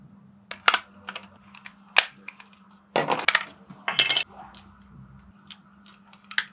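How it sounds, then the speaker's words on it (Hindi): Two batteries pushed into the compartment of a handheld wire tracker for CCTV cabling, giving a series of close plastic clicks, snaps and rattling fumbles in short bursts. "अब यहां पर हम लोग पहले बैटरी इंसर्ट कर लेते हैं डिवाइस के अंदर"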